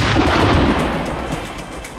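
A rifle fires during a plains game hunt in Africa, a heavy booming report that rolls and fades away over two seconds, loud and close, with no voices.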